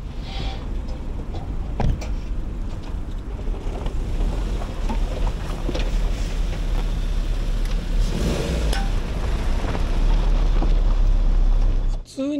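A Suzuki Jimny Sierra on standard tires rolls along a gravel road, giving a steady low rumble with wind buffeting the microphone and someone talking over it.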